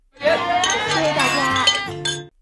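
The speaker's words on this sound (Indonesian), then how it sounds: "langsung mengajaknya bersulang" Glasses clink together in a toast amid a lively gathering, a bright ringing chime standing out over background chatter and voices.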